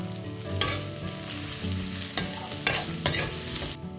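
Garlic sizzles in hot oil in a pan while being stirred for Filipino kare-kare with beef skin, a steady crackling fry broken by several scraping spatula strokes up close.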